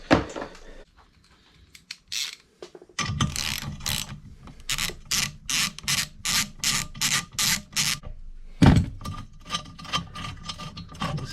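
Rapid ratchet clicking in repeated bursts while a part is bolted onto a 1980s Kawasaki KZ400J motorcycle engine during a build, close and fairly loud, with short pauses between strokes.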